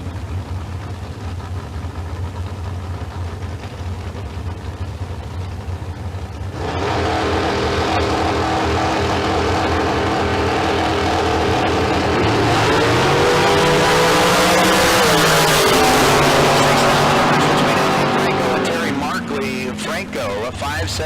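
A Shorty Dragster with a 302 small block Chevrolet idles roughly at a drag strip, then bursts into a loud revving run, pitch climbing and sweeping before easing off at the end.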